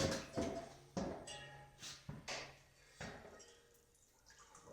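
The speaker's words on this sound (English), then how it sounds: "Pull that skillet up and see what's going on here." A cast iron skillet lifted from a lye tank gives a series of sharp metallic clanks and scrapes at an irregular pace, close and fairly loud, with brief pauses and a low hum between hits.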